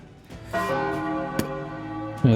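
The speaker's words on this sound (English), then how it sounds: "As you all hear the bells ring" Church bells ring with a struck onset followed by a sustained, resonant ringing hum, and a second strike near the end, clear and fairly close with no talking.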